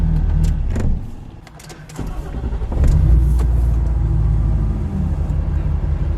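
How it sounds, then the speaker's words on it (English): A truck's engine idles with a low rumble at a gas station, cuts out briefly and then fires back up into a steady idle, with a few clicks and knocks around it. "why did he turn his truck on and off?"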